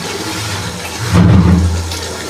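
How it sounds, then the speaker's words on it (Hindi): Two liters of water rush into a cooking pot of chicken nihari in one loud, close, gushing pour lasting about a second, then fade to a low rumble. "अब इसमें 2 लीटर पानी ऐड कर दूंगी"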